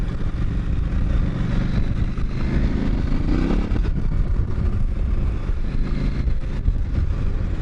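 A KTM 790 motorcycle riding at the start of a ride on a cool day, its engine note a steady loud drone mixed with wind rush, continuous throughout with no talk.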